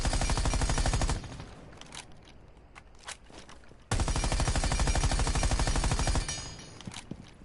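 Automatic weapon fire during recoil-control practice in Rainbow Six Siege: two long, loud sustained bursts of rapid shots separated by a quieter pause with a few scattered sounds, no talking.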